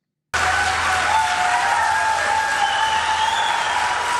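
A crowd at a Kamala Harris campaign speech breaks into applause that starts abruptly and holds dense and steady for about four seconds, loud and close, with no voice over it.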